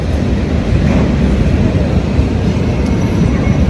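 A train rumbles past nearby, a loud, steady broadband roar with no clear breaks, heard alone without voices.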